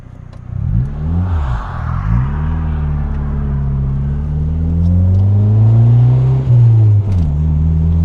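Turbocharged Honda Civic driving and accelerating, with a steady loud engine drone rising and falling in pitch through revs and gear changes, heard from inside the car.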